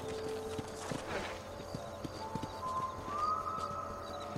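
Horse hooves clip-clop steadily in the Red Dead Redemption video game as the rider stays mounted, a brisk, evenly spaced rhythm of close, crisp strikes over a low ambient bed.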